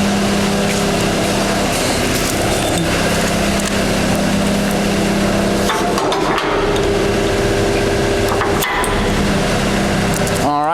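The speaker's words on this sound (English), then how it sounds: "just take your pins, put one in that side, go put the other one back in the other side" Steel locking pins slide and clunk into a screen box for transport while a diesel engine drones steadily nearby; a few sharp metallic knocks stand out around the midpoint, with someone talking through much of it.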